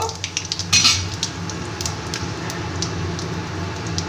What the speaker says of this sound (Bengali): ফোড়নের জন্য আমি তেল গরম করে নিয়েছি এবার আমি দুটো তেজপাতা শুকনো লঙ্কা আর পাঁচ ফোড়ন দিয়ে দিলাম